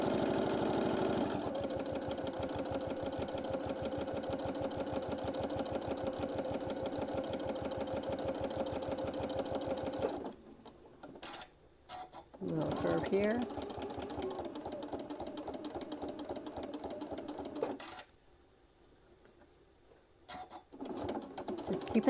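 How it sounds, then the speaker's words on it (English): A sewing machine stitches down the side of a travel case for a mini iron, a steady fast motor-driven chatter for about ten seconds, then stopping and starting in shorter bursts with quieter gaps. "Then lining it up and just sewing down the side."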